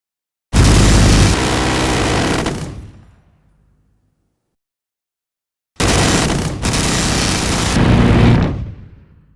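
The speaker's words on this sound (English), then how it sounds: "Just for funsies, here's the cannon sounds soloed." Two long, loud bursts of recreated Top Gun Maverick aircraft cannon fire heard on their own: a dense, rapid rumbling stream that cuts off and decays, then after a silent gap a second extended burst.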